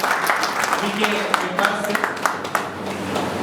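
Audience applause at a felicitation ceremony, a dense steady patter of many hands clapping throughout, with a voice speaking faintly over it.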